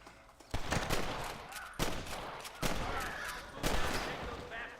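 Gunshots ring out in a Red Dead Redemption firefight, several heavy booming shots spaced about a second apart. Each one is followed by a rolling echo over a background of battle noise.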